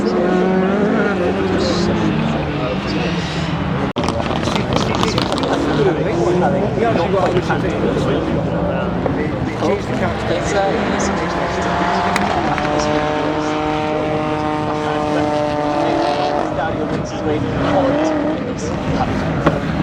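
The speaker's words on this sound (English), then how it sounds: "That's an old school rally car with quite a bit of giving suspension." An old school rally car with soft, bouncy suspension races along a stage, its loud engine revving and climbing through the gears under steady commentary from an announcer.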